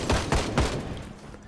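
Three quick rifle shots fire in rapid succession in the Project Zomboid video game, each a close, punchy bang, followed by a fading tail.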